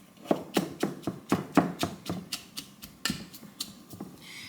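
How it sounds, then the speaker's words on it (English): Shredded cabbage for homemade sauerkraut is punched down by hand, giving a run of close, moist thumps and squishes at a steady beat that slows and softens toward the end. "I'm gonna punch this down and just release some more of the natural juices"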